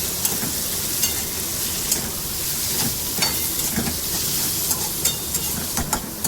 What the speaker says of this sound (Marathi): व्यवस्थित तेलात कांदो आणि टोमॅटो व्यवस्थित मिक्स करून घेऊया